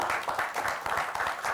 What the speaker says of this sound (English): So give yourself an applause back there,